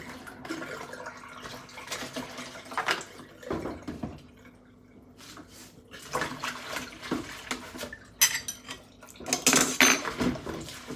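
Dishes are washed by hand under running water: plates and cutlery clink and clatter in uneven bursts over splashing, with quieter pauses between handling, close up and without speech.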